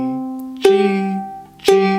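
A ukulele plays the opening notes of Twinkle Twinkle Little Star, two clear plucked notes about a second apart that ring and fade, up close with no talking.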